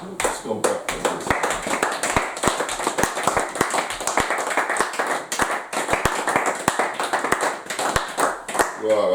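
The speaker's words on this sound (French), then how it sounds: "Est-ce qu'on peut applaudir?" A church congregation clapping together during an evening gathering, a dense run of hand claps with sharp individual strikes standing out, close and fairly loud, with voices mixed in underneath.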